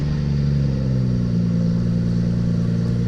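A BMW M240i engine, freshly fitted with new spark plugs, runs close by with a loud, steady low hum that holds even after it has just started.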